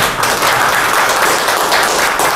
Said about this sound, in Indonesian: Tepuk tangan dulu buat AFC Bapak sekalian.